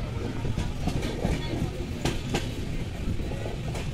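A Kolkata–Mathura weekly express passenger train runs on rails near Dum Dum station. The steady rolling rumble carries rhythmic wheel clicks at the rail joints, heard from on board.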